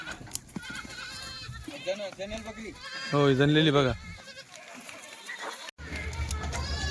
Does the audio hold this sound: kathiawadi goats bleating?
yes